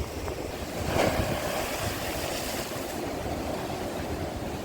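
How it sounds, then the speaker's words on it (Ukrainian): Powerful storm waves pound the sea at Arcadia beach in Odesa, a continuous roaring wash of surf with heavy wind noise on the microphone, one louder surge near the start. "Дуже потужні, сильні хвилі."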